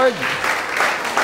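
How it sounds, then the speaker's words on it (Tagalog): A church congregation claps for the Lord after the pastor's greeting, a brief burst of applause that trails off under a speaking voice. "The best pong palakpak para kay Lord."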